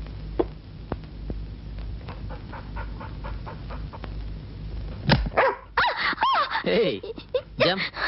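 A big pet dog barks in a series of loud, close, irregular barks and yips, with people talking around it and some whimpering.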